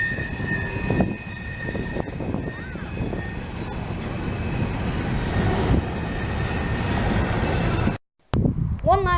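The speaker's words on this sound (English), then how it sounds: "This train goes from Winston Yard in Lakeland to Rice Yard in Waycross." A freight train running from Winston Yard in Lakeland to Rice Yard in Waycross rumbles past close by, with loud continuous wheel and car noise and squealing wheels, then a brief dropout near the end.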